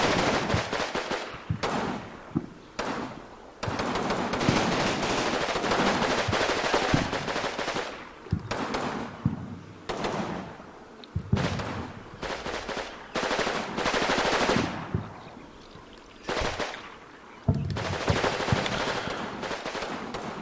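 Machine gun bursts and rifle shots crackle through a firefight, loud rapid volleys in repeated bursts separated by short pauses, dense and close.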